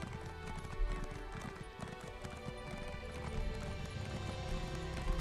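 Horse hooves clip-clop in a steady trotting rhythm in the video game Elder Scrolls Online, with a brief whinny and some light background sounds mixed in.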